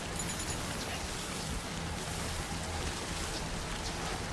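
Steady rain falling in the video game Death Stranding 2, a continuous hiss of drops spread evenly across the whole stretch with no break, fairly quiet and unaccompanied.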